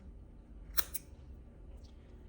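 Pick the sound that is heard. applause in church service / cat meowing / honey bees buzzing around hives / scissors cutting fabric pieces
scissors cutting fabric pieces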